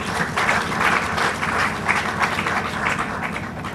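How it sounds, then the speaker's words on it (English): Audience applause for a keynote guest at a conference fills the room, sustained dense clapping from a crowd at close range for several seconds. "Please clap for him."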